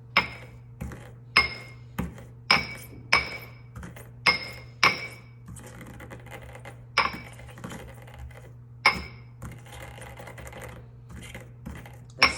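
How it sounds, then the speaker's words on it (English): Anise seeds are pounded and ground in a mortar and pestle, sharp ringing strikes landing in an uneven rhythm with brief gritty scraping between them, close and fairly loud against a low steady hum. "So here we have our anise seeds and our mortar and pestle. And you can see I'm just going to grind them up."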